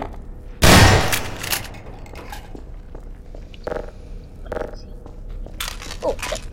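Shotgun fired in the video game Half-Life 2: Episode One, one loud close blast near the start followed by quieter clanks, footsteps and scattered game sounds.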